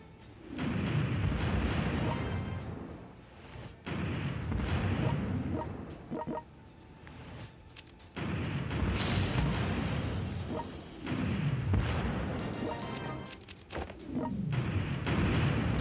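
Tank bombardment in the mobile strategy game World Conqueror 4, a 2018 Brazil scenario: repeated heavy booming blasts and rumbling explosions in long loud bursts, with a few short pauses between volleys.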